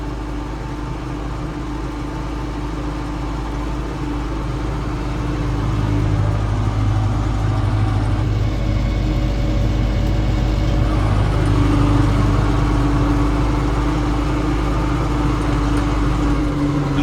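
Farm tractor engine running steadily in a field during fertilizing, tilling and sowing work, a continuous low diesel drone that swells slightly louder partway through, with no talk.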